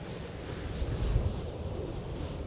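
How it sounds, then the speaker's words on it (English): Strong wind buffeting outdoors at a carp fishing lake at a Scottish coarse fishery, a steady rushing roar with heavy low microphone rumble and a gust swelling midway. "Oh my god, it's so windy."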